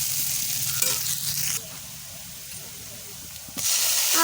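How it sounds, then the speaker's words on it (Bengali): Onions frying in hot oil for a Bengali fish curry, a steady steamy hiss that is louder at the start, quieter in the middle and loud again at the end, with no talking. "তেলের মধ্যে এবারে পেঁয়াজগুলো দিয়ে দেবো, দিয়ে ভালো করে লাল লাল করে ভেজে নেব"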